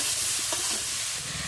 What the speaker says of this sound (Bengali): লাউগুলো দিলাম আর আলুর সঙ্গে ভালো করে লাউগুলো দিয়ে আমি ভেজে